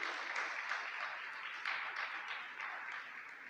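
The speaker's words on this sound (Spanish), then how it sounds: "Eso merece un aplauso al Señor tremendamente." Faint, distant congregation applause inside a church, a soft continuous patter of many hands swelling slightly in waves.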